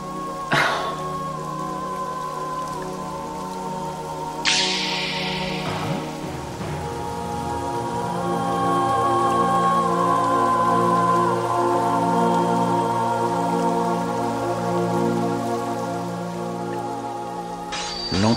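Steady rain falls as a continuous, fairly loud hiss over a soft tonal background, with a few sharper drops or rumbles along the way.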